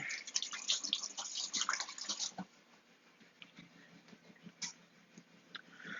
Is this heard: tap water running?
yes